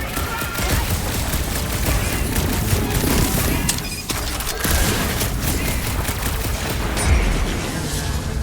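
Rapid gunfire from Guardians of the Galaxy crackles in dense, continuous bursts with occasional heavier booms, loud and busy throughout, with a brief dip midway.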